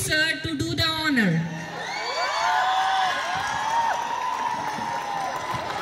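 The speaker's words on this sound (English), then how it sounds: "A big round of applause for Mr. Rachit." A school farewell audience cheers and whoops loudly, with crowd noise and shouting carrying on steadily after an announcement of a big round of applause; voices rise in excited bursts throughout.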